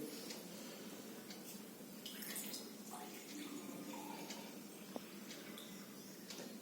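Water poured steadily from a jug over a glass during a table water service demonstration, a continuous soft splashing stream over a hiss of room noise with faint ticks.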